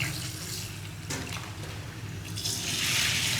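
Dal being rinsed by hand in water at a kitchen sink, with a steady splashing and sloshing that swells louder toward the end, close and without talk.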